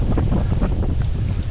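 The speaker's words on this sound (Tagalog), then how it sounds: "Lakas ng hangin." Strong wind buffets a microphone outdoors, a dense low roaring rumble with gusty surges throughout the short stretch.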